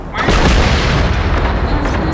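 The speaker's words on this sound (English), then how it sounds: "I shot the smoke rockets at it." Smoke rockets fired in the shooting game Generation Zero, a loud, deep, sustained whooshing boom that starts abruptly and fills the whole clip, with a voice faintly mixed in.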